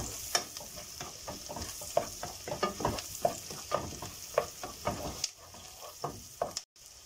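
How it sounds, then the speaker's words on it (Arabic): Garlic cloves and onion sauté in a pan, with a soft sizzle under repeated spoon-against-pan scrapes and knocks in an uneven rhythm, close and fairly quiet until a short pause near the end. "هننزل عليه الكام فص توم بتوعنا دول، حوالي 4 أو 5 فصوص، ونديهم تقليبة برضو كده. نشوح التوم مع البصل"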